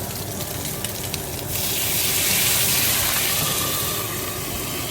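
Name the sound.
water added to hot pan with seared tuna steaks, sizzling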